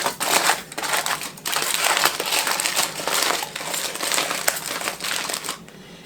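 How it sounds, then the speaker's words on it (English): Aluminium foil being folded and crinkled around a pork loin, a steady close rustling crackle that swells and eases in bursts, with short pauses between folds. "I'm going to seal it as best I can in the foil."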